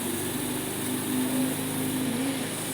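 An engine runs steadily at about 2000 RPM, a constant droning hum with a buzzing higher whine, close and even in level for the whole stretch with no talking.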